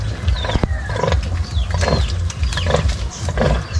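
A sow that has just given birth to fourteen piglets, heard during nursing: loud repeated grunts and squeals with short high-pitched piglet cries, close and busy, with no talk.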